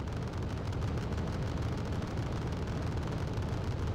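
Anti-aircraft cannon fire from Wargame: Red Dragon forms a dense, continuous rumble of rapid thuds and booms, heavy and unbroken throughout.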